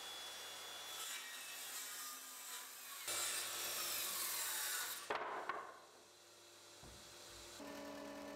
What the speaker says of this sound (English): I first started by rough cutting the boards to make it easier to run them through the jointer.